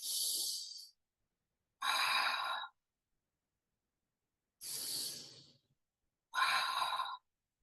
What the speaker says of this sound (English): Exhale out of the mouth for these.